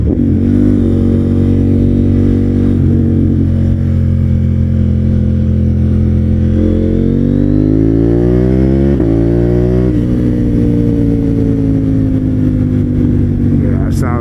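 A KTM Duke 890 GP motorcycle with a full Akrapovic exhaust, baffle removed, revs loudly and close up, the engine pitch climbing and falling through repeated throttle blips over a steady idle drone.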